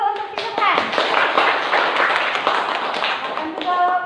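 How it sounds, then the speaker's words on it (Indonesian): Students applauding together in a classroom, a dense steady clapping that carries through the whole stretch, with voices chattering underneath. "silakan tepuk tangan dulu untuk si Subhan."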